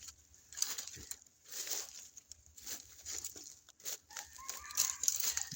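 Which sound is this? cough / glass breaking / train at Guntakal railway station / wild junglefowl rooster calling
wild junglefowl rooster calling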